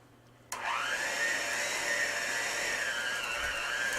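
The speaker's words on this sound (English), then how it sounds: "Now we'll take a mixer to it." An electric hand mixer starts abruptly after half a second and beats coffee cake batter with a steady, loud whirring hum that holds level to the end.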